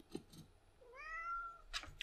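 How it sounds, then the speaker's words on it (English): A pet cat trying to climb into a clothes basket gives one clear, drawn-out meow, close and alone, framed by a few faint soft bumps. "Hello, my cat friend. Have you come to take part in the video?"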